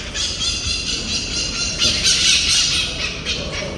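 A parrot in Barcelona gives harsh, rasping squawks in short bursts, fairly close amid faint outdoor background.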